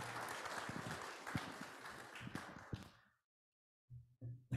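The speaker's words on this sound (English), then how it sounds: "How about a round of applause for Zach helping us out?" Congregation at a Sunday church service applauding a helper, dense clapping for about three seconds that then stops abruptly, followed by a few brief faint sounds near the end.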